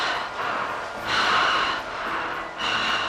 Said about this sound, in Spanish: Se empezó a escuchar como una respiración.